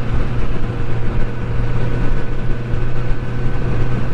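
A 2022 Honda CB1000R Black Edition motorcycle engine hums steadily while cruising, a loud, close and even drone mixed with wind rush.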